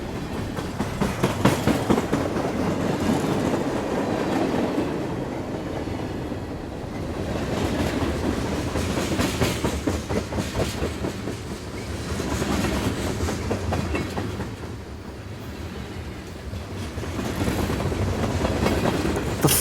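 A toy train rolls along its rails with a steady, rhythmic clickety-clack that stays close and fairly loud throughout, with no voices over it.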